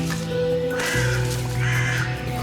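A crow in a sandbox survival game gives a couple of loud, close, harsh caws over steady game ambience.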